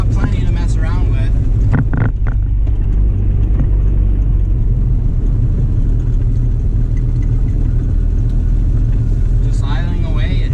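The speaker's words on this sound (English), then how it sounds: "Just idling away, like once it finds its idle, it's fine." A 1978 Triumph Spitfire engine idles with a steady, close, low rumble that holds even throughout, with a few brief voice-like sounds near the start.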